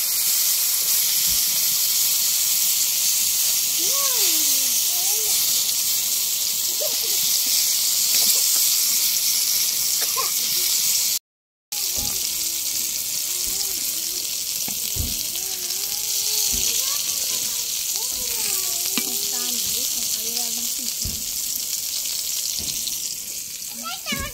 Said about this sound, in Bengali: এখন বেগুনটা ভেজে নিব আমি, এটা গাছের বেগুন।